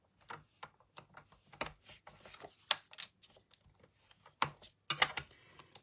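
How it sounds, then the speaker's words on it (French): Card stock is creased along fold lines with a bone folder, giving quiet, close, irregular scraping and tapping strokes. "Je viens marquer les plis au plioir."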